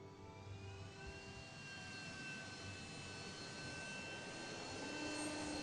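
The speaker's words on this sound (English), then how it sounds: "Generic engine noise number 3." A spaceship engine from a Star Wars video game makes a steady, continuous roaring drone that swells slightly louder toward the end, with no talking over it.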